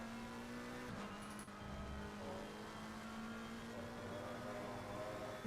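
McLaren race cars in a sim racing game at Barcelona hold a steady engine drone with rising revs and faint tire noise. The sound is fairly quiet and continuous, with no talk.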